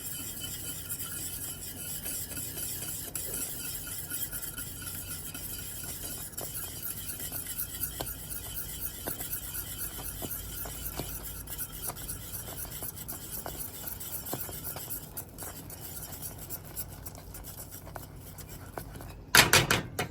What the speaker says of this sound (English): We're gonna keep on like stirring the flour until it start cooking